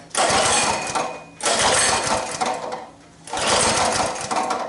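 Attempts to start a Coleman BT200X mini bike engine with the choke and fuel on: three loud, close bursts of rough, sputtering engine noise, separated by short pauses, with no talking.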